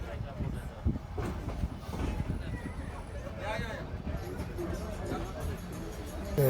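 The Ooty toy train moves through Ketti railway station, its carriages rumbling and rattling close by, with a person talking over the clatter and a crowd murmuring in the background.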